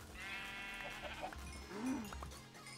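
Minecraft cows lowing in a short burst of game audio, a couple of nasal bleating calls rising over a steady tonal hum and soft background sounds, no talking.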